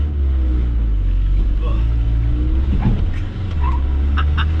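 A Ford Ranger pickup with a 134-horsepower engine drives along with a loud, steady low engine drone and some rumble and rattling, while people talk inside the cab.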